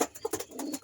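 Pigeons in a breeding loft give a few short, soft coos and bird calls spread over less than a second, close by and fairly clear.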